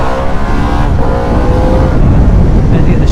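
Harley-Davidson Pan America ST motorcycle engine running loud and close at high revs, a dense continuous roar with a faint rising pitch and wind noise, and no clear talk.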